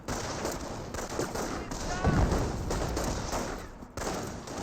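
Dense gunfire from a World War II battle in Company of Heroes, with Wehrmacht snipers, riflemen and medics in the fight, giving loud continuous bursts of rifle and machine-gun shots and a heavier blast near the middle.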